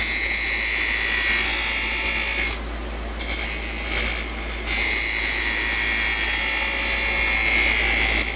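A wood lathe spins a chess rook while a spindle gouge cuts it, giving a steady high whine and hiss that dips twice as the tool lifts off, loud and close with nobody talking.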